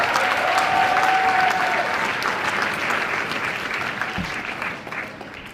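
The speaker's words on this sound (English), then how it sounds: "Can we give another round of applause for that beautiful performance?" Wedding reception guests applauding a performance, a full, steady round of clapping from a crowd that gradually thins and fades over several seconds.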